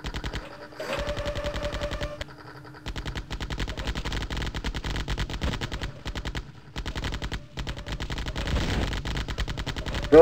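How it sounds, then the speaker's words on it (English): Rapid automatic gunfire from the video game Terminator: Future Shock rattles in long continuous bursts broken by brief gaps, with steady even shots throughout and no voices. "he's shooting me in the face"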